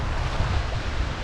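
Sea waves hitting the shore at Pondicherry make a continuous loud wash of surf mixed with wind buffeting the microphone, with no voices.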